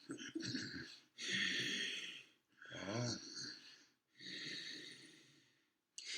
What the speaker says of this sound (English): I did ujjayi breathing, which you learn in certain practices of yoga